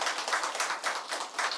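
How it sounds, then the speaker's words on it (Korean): A church congregation at a New Year special dawn service applauding together, dense continuous clapping from many hands, moderately close, with no speech over it. "박수 한번 하겠습니다."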